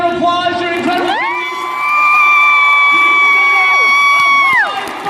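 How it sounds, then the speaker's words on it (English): Students at a large youth rally cheer loudly for their teachers, with whoops and sustained shouting that swell and hold near the middle before easing off, carried over a broad crowd roar. "And thank their teachers with a huge round of applause."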